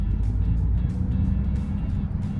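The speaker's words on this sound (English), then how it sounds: "if you do want to feel a bit of a rush, then I suggest only going to about 1/4 throttle" A 2023 Chery Tiggo 8 Pro PHEV plug-in hybrid SUV pulls away at quarter throttle, giving a steady, fairly loud low rumble of engine and road noise that holds evenly for the whole stretch, with no talking.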